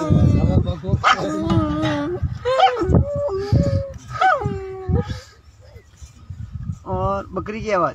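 A voice imitates the barks and yips of a big dog in a series of short, pitched vocal bursts, loud and close, with brief pauses between calls.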